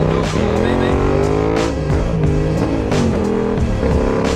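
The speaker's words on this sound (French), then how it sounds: "je vais me faire un petit wheeling là" Motorcycle engine revving hard during a wheelie on a cold, wet, windy ride, loud and close with rising and falling pitch sweeps, under wind noise and a rider's voice.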